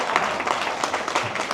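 Audience applause at a Paultons Park super fans day presentation, a steady broadband wash of clapping that holds fairly even throughout the short burst, with no voices standing out.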